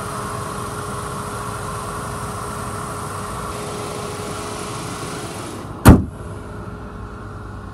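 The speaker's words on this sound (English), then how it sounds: "The motor sounds great." A 2014 Chevy Impala LT engine idles steadily as a low, even hum from start to finish, broken once by a single sharp knock near the end.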